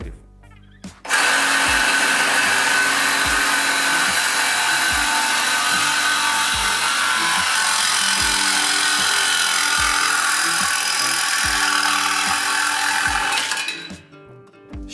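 A Vitals reciprocating saw fitted with a metal-cutting blade cuts metal, a loud, steady buzzing roar with a rapid reciprocating rhythm that starts abruptly and runs for about twelve seconds before stopping.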